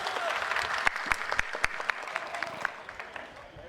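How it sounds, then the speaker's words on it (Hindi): Crowd applause at a Samajwadi Party rally, a steady patter of many hands with a few sharp louder claps standing out, fading slightly toward the end. "तालियां बजाओ अखिलेश भाई के लिए आप लोग"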